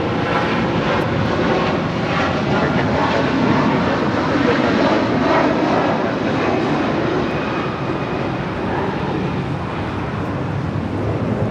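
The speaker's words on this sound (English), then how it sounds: "This is Air Canada 788 departing to Toronto on an A330-300." Air Canada Airbus A330-300 departing Los Angeles International Airport for Toronto, its loud continuous engine roar steady and close throughout with a faint whine above it.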